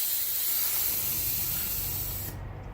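Air hissing out as a Shotgun air ride shock deflates on a Harley Softail, a steady loud spray that lowers the bike, cutting off sharply near the end.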